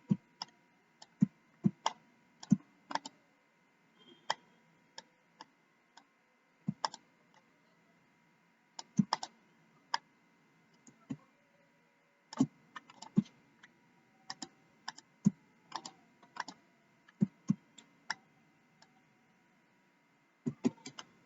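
Keyboard keys clicking in irregular bursts as text is typed during a Figma design session, fairly quiet and close, with no talk.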